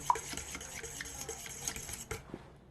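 Quiet, steady rubbing and scraping of a utensil stirring a water and starch mixture for a tomato and egg stir-fry, a faint close rhythmic stir with light clinks and no voices.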